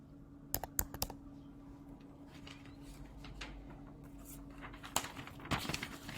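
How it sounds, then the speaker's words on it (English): Faint clicks of someone typing on a computer keyboard, a few quick keystrokes early on and more after a pause, over a low steady background hum. "I'm going to type Friday."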